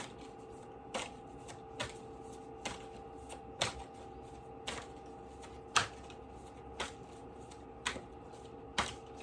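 An Angels and Ancestors oracle card deck is shuffled in steady rhythm, about ten crisp riffling snaps roughly a second apart over a faint constant hum, with no talking.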